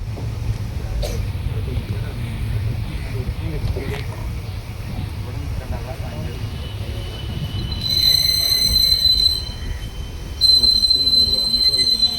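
A passenger train at Tirur railway station rumbles steadily nearby, with high metallic wheel squeals rising in the latter half and voices faintly underneath.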